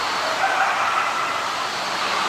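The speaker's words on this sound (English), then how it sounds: "It does sound like hyenas." Eerie, wavering animal calls, doggish yips and whoops blending into a steady chorus, carrying from some distance with no talking.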